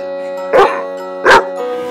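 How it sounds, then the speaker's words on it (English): Two loud, close sled dog barks spaced about a second apart at night over a steady tonal hum. "When out on the lot, the dogs rushed to a bark."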